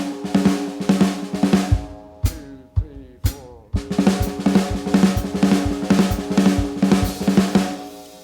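Drum kit played in a jazz style on a trap drags rudiment, with dense, rapid rolling strokes and accents and a brief gap partway through, loud and close.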